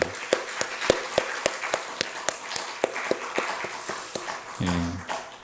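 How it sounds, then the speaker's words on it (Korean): A church congregation claps in blessing for the children with sharp, evenly spaced claps in a steady beat. The clapping is fairly close and loud, and a brief tone enters near the end. "우리 축복의 박수 한번 쳤으면 좋겠습니다"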